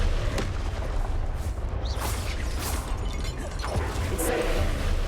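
An Expelliarmus spell cast in Hogwarts Legacy, a booming magical blast with whooshing bursts over continuous rumbling game ambience, a few sharp impacts scattered through.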